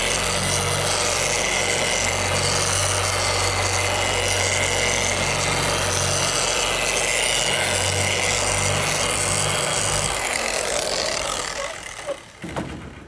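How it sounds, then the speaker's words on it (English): A machine polisher spreads carnauba wax across a panel of a Z28 Camaro, a continuous close whirring rub with a low droning undertone that runs for about ten seconds before the motor cuts off and winds down. "I'm letting the machine do the work and the wax from the product itself do the work."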